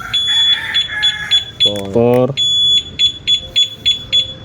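A two-way motorcycle alarm on a Honda XRM 125 Fi emits loud, close, repeated rhythmic electronic beeps, broken by a short run of rapid chirps, while someone talks briefly.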